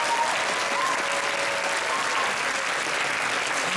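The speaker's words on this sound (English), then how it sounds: "let's give our first round of applause to our amazing artists here" An audience at a D23 Expo panel on Disney Parks art applauds the artists with dense, sustained clapping. It is loud and even throughout, with faint crowd murmur and no clear speech.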